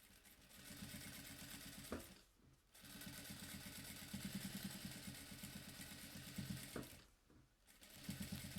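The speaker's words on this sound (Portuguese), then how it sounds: "aqui eu faço uma costura para rebater, só para dar um acabamento" A domestic sewing machine runs a finishing topstitch along a fabric seam, a fast close mechanical rattle in steady bursts, briefly pausing twice between runs, with no talking.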